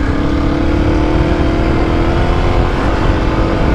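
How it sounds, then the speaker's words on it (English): A dirt bike engine is held at full throttle on a rocky trail with the rear wheel hung up on a rock, giving a loud, steady, close drone that never lets up. "It's chugging, giving a full throttle,"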